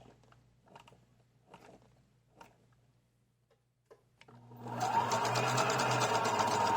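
A Husqvarna Viking 2000 sewing machine stitches through leather. A few soft clicks come first, then the motor starts and runs steadily and loudly until the end.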